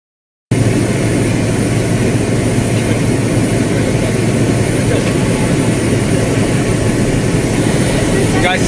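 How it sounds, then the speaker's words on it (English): A loud, steady roar like an airplane flying overhead sets in abruptly after a brief silence and holds constant, a broad engine noise that masks any voices. "You guys see that plane flying around?"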